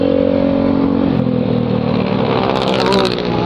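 A motorcycle with an open-pipe exhaust revs close by, its loud, raw engine roar rising and falling with a brief throttle surge near the end, heard alone without talking.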